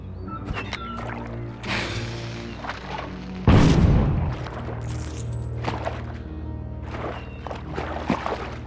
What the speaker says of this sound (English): But first, we'll drop a bomb.